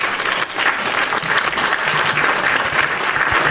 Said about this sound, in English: All right, hit my hand claps.